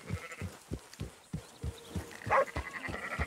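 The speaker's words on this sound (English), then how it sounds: "We got a guy with some sheep here" Sheep bleating near a herder with a border collie in the video game Red Dead Redemption, set over a steady rhythmic thumping of hoofbeats, with a few short bleats standing out at moderate distance.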